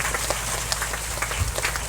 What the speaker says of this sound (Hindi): सभी को ताली बजाकर हमारे आर्च बिशप को स्वागत